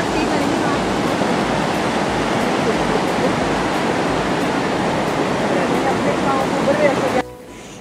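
Loud, continuous roar of rushing Himalayan mountain river water fed from the Sindhu, a dense broadband wash heard close and unbroken, dropping off abruptly just before the end.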